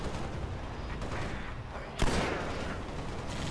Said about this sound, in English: Ransacking with this shotgun.